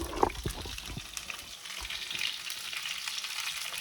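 Meat fries skin side down in a hot pan, giving a steady, close sizzle with a few brief louder crackles near the start and no talking.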